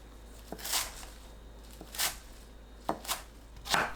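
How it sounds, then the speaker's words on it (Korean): A kitchen knife slices washed water parsley (minari) into 4 cm lengths on a cutting board, making four quiet, spaced chopping strokes up close with soft crisp cuts. "손질 후 씻은 미나리는 4cm 간격으로 썰어줍니다."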